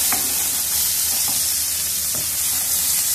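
Besan cooks in a pan with a steady, close sizzle and hiss, broken by a few soft scraping stirs.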